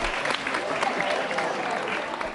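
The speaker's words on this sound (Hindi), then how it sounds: "तालियां जोरों से बजाई।" A school audience at a quiz show claps loudly and continuously, a dense wash of many hands sustained evenly throughout with no pause.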